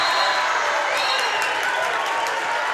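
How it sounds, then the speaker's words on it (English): A student section roars at a Louisville basketball game, dense sustained cheering and clapping filling the arena loudly from start to finish, with voices shouting within the din. "the student body going nuts"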